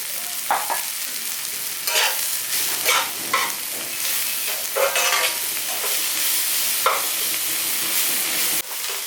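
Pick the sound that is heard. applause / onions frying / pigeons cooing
onions frying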